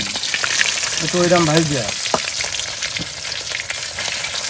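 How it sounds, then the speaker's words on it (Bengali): Fish fries in hot oil with a steady loud bubbling sizzle, close up, while someone briefly speaks over it. "এই দ্বিতীয়বারের মাছ ভাজা।"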